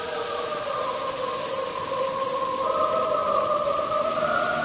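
Cricket chirps slowed way down become long, sustained, gliding tones layered like voices in a choir, swelling slowly and smoothly with a hymn-like, almost whale-song quality, steady and fairly loud throughout with no talking.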